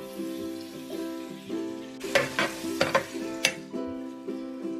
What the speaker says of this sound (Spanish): Lo revolvemos.